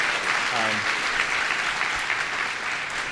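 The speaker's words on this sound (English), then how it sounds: "Can we give another round of applause for Vitalik?" A meetup audience of Ethereum developers applauds after a talk, giving a steady, even round of clapping heard from within the room, with a brief voice at the start.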